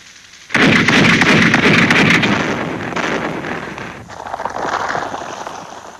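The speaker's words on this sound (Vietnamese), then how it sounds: "Tôi đã đề nghị phía trên cho tất cả súng lớn bắn dồn dập đè đầu chúng xuống." A war-film artillery barrage of heavy guns thunders in a sudden loud blast and then continues as a dense, rumbling roar of firing with sharp cracks. It is close and overwhelming, with a brief lull and a second swell.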